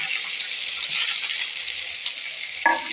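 Chopped onion, green chili, garlic and curry leaves frying in a pan after cumin seeds, a steady loud sizzle with a brief stirring clatter near the end.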